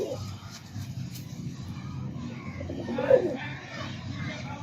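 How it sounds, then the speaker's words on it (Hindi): Laal Pari breed pigeons coo softly and repeatedly, with a louder coo near the end, against a faint murmuring background. "तो अब मैं आपको इसकी मादी दिखाता हूँ, कबूतरी दिखाता हूँ"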